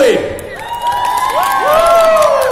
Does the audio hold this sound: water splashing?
no